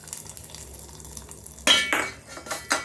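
Hot mustard seed and curry leaf tempering poured into tomato chutney: a quiet crackle, then a sudden loud sizzling splash with a couple of follow-up bursts and a clink of metal.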